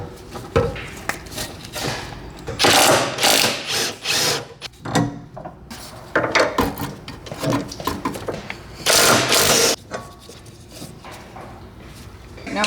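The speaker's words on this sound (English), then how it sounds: "Okay, now let's zap off the old sway bar end links." Power tool zapping off old sway bar end links on a Mitsubishi Evo 8 during a Whiteline suspension upgrade, loud rapid bursts of impact-style rattling in several separate runs with short gaps between them.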